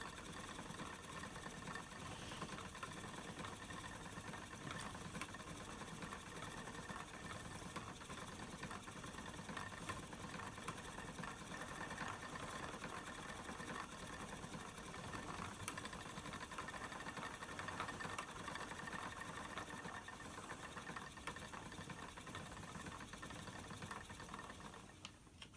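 Wooden spinning wheel working merino silk yarn gives a steady, continuous mechanical whir with rattling and light knocking vibration, close and even throughout, with no talking.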